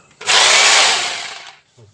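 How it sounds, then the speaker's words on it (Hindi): A Foster FHD 2-26 DRE 850-watt electric drill with a plain drill bit spins up in reverse, giving a loud, steady whirring buzz for about a second and a half before winding down, with no talk over it. "ये सिर्फ नॉर्मल ड्रिल बिट पे है। इसको मैंने चलाया, ये भी उल्टा चल रहा है।"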